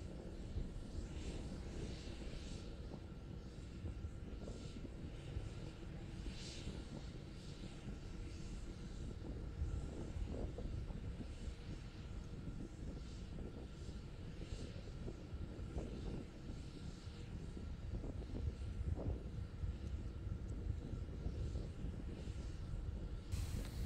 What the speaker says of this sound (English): We're now slowly climbing to the final 10 kilometer altitude on the power of the single Raptor engine